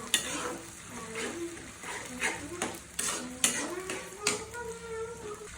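Duck meat cooked with coconut being stirred in a pan, with repeated scraping and clanking of a utensil against the metal over a soft sizzle, in irregular strokes at close range.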